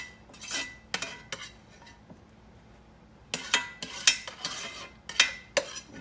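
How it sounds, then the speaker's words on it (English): Cooked ground beef tossed in a metal strainer, a few sharp clattering rattles and clinks in short bursts separated by brief quiet gaps, close and fairly loud. "Give it a little toss so that it'll help it loosen up so the grease will drain out and go through"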